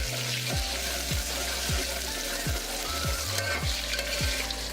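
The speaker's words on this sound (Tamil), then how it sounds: "இப்போ எண்ணெய் சூடாயிருச்சு. இதில் சின்ன வெங்காயத்தை சேர்த்து நம்ம பொன்னிறமாக வதக்க போகிறோம்." Shallots sautéing in hot oil and ghee crackle and sizzle up close, with regular scraping strokes of a spatula stirring the pan about once a second, and no talking.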